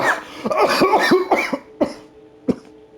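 Someone coughs several times in a harsh, throaty cluster, then two more isolated coughs follow after short pauses, close to the listener.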